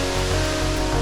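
Haha-no-Shirataki, a multi-layered waterfall near Kawaguchiko Shrine at the foot of Mount Fuji, gives a steady, dense rush of falling water, loud and unbroken, with no voices.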